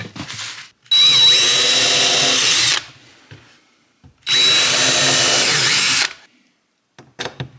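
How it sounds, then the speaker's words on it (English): A power drill pre-drills and drives screws into a slat of a wooden Adirondack chair, giving two loud, close whirring bursts of about two seconds each with a short pause between them. "Pre-drill and screw into the slat with screws."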